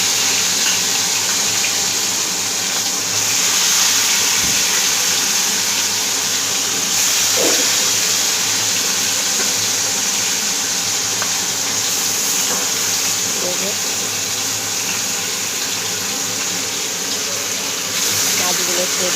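Koi fish (climbing perch) dropped into hot oil give a loud, continuous broadband sizzle that holds steady for the whole stretch, with a few faint clatters scattered through it.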